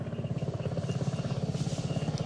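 A steady, rapid thumping rotor beat with a low engine drone, constant and fairly loud throughout, like a helicopter running nearby.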